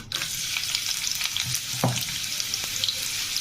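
Onion frying in hot oil in a pan for a katla fish curry with ridge gourd, a close, steady sizzle broken by a few soft scrapes of stirring, with no talk.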